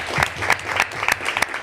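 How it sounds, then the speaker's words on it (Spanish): An audience claps together in a short burst of applause at a talk, dense and fairly close, lasting under two seconds. "Un aplauso para las unidades."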